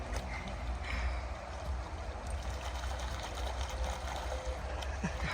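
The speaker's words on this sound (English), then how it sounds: "The river's over here." An outdoor river flows with a steady, broad rush and trickle of moving water, continuous and fairly close, with no voices over it.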